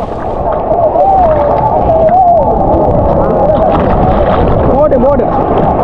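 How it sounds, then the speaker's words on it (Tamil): Sea waves roll in on a Sri Lanka beach as a steady, loud, broadband roar, with wind buffeting the microphone and voices calling out over the surf. "அலை வருது, அலை வந்தோட போவோம்."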